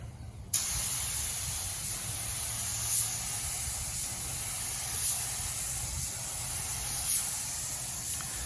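White paint sprayed onto a 1966 Chevrolet Nova as a steady, close, continuous hiss, with faint pulses where the gun is triggered, running the whole time after a brief quiet start.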